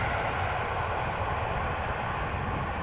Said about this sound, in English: So this was KLM flight 744 777-200 ER, arrival from Lima